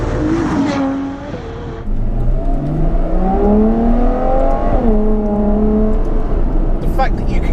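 A Ferrari F12 TDF's big V12 pulls hard from low revs, its loud engine note rising through the gears with a brief dip at a shift. A voice talks over it from inside the cabin.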